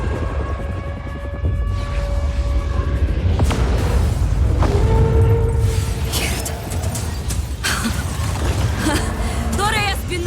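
A massive tower explosion in Just Cause 4, the Torre Espinosa coming down: a loud, sustained low rumble and booming blast with crackling debris, layered under a dramatic music score throughout.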